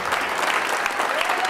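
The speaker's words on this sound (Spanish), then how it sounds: "Usted denle un aplauso al Señor mientras mi hermano pasa" A church congregation gives dense, continuous applause at a service, a steady roar of many clapping hands, with some faint voices mixed into the crowd.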